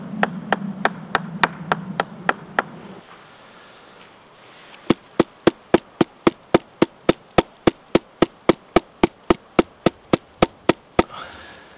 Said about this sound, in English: So some of the smaller bits you can just whack down with a mallet.